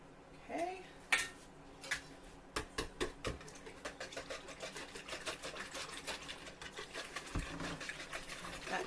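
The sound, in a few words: eggs being whisked in a bowl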